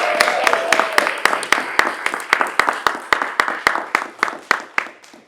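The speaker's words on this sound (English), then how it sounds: "Let's give some applause for Stan Young." An audience at a college Brain Bowl celebration claps in a steady, rhythmic stream of sharp, evenly spaced claps, loud and close, with no talking.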